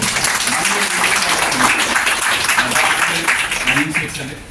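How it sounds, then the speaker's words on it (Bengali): Audience applause at the farewell of Pintu Sarkar at ADDA Recreation Club, a sustained, dense clapping from a room full of people that fades slightly at the end while a voice carries over it. "সবাই মিলে একটা হাততালি করতালি দিয়ে"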